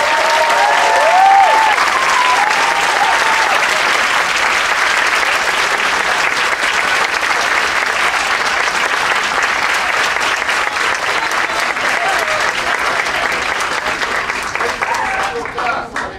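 Loud, sustained applause from an audience at a Colégio Bandeirantes 2013 school stage performance of "A Capital Federal", steady dense clapping for about fifteen seconds with a few scattered voices, tapering slightly at the end.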